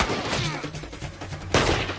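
Dense, continuous gunfire in an action movie battle, sustained rattling bursts with a sharp, loud volley near the end, filling the scene with a harsh wash of noise.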